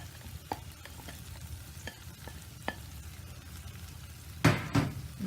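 Corn and capsicum with chilli sauce stirred in a frying pan over a slow flame, with soft scraping strokes over a low sizzle and a louder clattering burst of stirring near the end.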